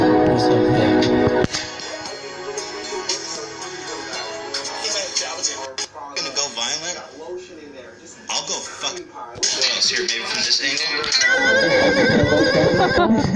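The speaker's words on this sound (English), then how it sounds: "The fucking horse sounds?" Horse neighing in a video game, loud whinnies repeating at close range with some clip-clop of hooves, while a person talks over them.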